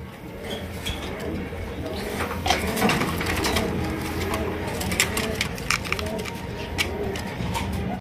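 A pair of red king pigeons coos at a breeding loft, soft low throaty calls repeating steadily over a busy, noisy background of other birds.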